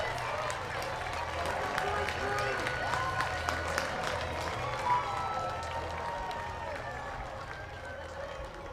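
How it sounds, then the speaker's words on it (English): A crowd at a Sunday evening minor league baseball game, Lexington Legends against the Florence Freedom, cheers and applauds after a home run in the bottom of the second, a steady, sustained roar with scattered whistles and shouts, and a commentator talks over it. "Listen to this crowd."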